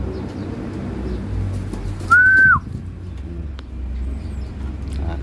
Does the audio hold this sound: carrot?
no